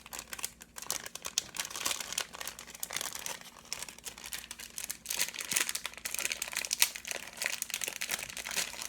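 A small plastic bag from a 2020 Pokémon advent calendar is opened by hand, giving nine seconds of continuous close crinkling and rustling with a few sharper crackles and tearing bits.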